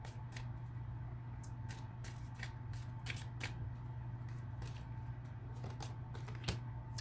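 Tarot cards are shuffled quietly by hand in a series of quick riffling flicks and snaps over a low steady hum, irregular bursts spread across several seconds with no talking.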